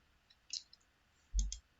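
A computer mouse gives a couple of short, close clicks: a light tick, then a louder click about a second later, in an otherwise quiet room.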